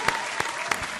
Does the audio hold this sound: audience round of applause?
yes